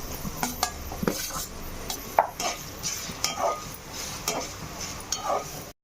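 Onions and tomato pieces stirred in a pan with turmeric and rock salt for a makhana carrot tomato curry, a spoon scraping and clinking against the metal at a steady pace over a soft sizzle.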